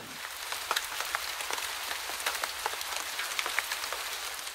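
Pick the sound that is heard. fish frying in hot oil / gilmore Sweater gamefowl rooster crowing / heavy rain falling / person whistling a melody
heavy rain falling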